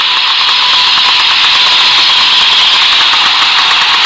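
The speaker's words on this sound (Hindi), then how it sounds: "तभी वहां से एक पुराना ट्रक गुजरता है" An old truck passes by with a loud, steady rumbling engine drone and broadband road noise, close and continuous throughout, with no voices.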